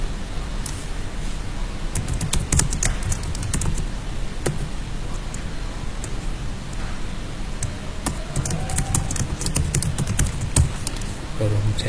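Computer keyboard typing in a training-session setting, with a steady run of light clicks and taps alongside background noise and talk.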